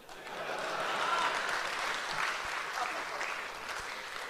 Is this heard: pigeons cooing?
no